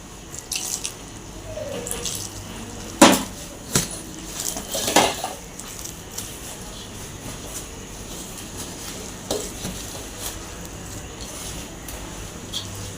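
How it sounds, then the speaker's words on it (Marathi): Water is trickled into thalipeeth flour in a bowl to form dough, with a few sharp clinks of a vessel and soft splashes and drips, widely spaced and fairly close, in a quiet kitchen. "याच्यामध्ये थोडं थोडं पाणी घालत आपण याचा गोळा बनवून घेणार आहोत।"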